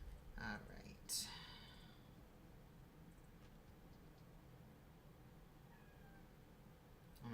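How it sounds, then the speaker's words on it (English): A house cat yowls insistently indoors, two short loud meows near the start and a fainter one at the end over quiet room hiss. "I don't know if you can hear my cat yelling in the background"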